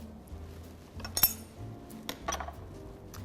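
A metal utensil clinks and scrapes against a pot while milk is stirred into a dumpling soup, a few sharp taps standing out over quiet, close stirring.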